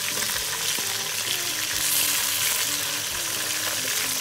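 Sliced onions fry in hot oil for mutton biryani, a dense, steady sizzle with bubbling crackle and occasional low stirring knocks throughout.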